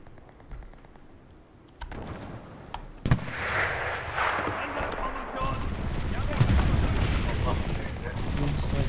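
Heavy booms and gunfire from a tank battle in the shooter game Enlisted: a sharp loud blast near three seconds, then dense rumbling explosions and shots that build and continue, with a player's voice talking over them.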